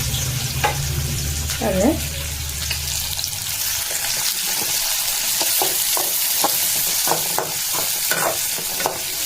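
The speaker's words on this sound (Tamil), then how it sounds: "வெங்காயத்தை போட்டு நல்லா வதக்கணும்" Onions, green chilies and greens sauté in hot oil for a chicken gravy, a loud close sizzle with stirring scrapes and spatula taps, and a voice briefly speaks at the start.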